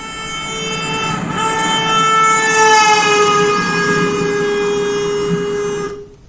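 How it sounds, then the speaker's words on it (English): A loud car horn blares steadily while passing close by, its pitch sliding noticeably downward as it goes, then cuts off abruptly. "So that was a car horn in a Doppler effect experiment"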